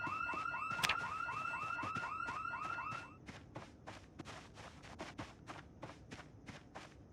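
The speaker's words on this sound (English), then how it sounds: "But 200 decibel house alarm." A house alarm in Project Zomboid rings in a rapid repeating warble, loud for about three seconds before cutting out, followed by a steady run of footsteps.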